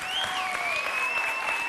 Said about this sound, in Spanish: el público te tributó tremendo aplauso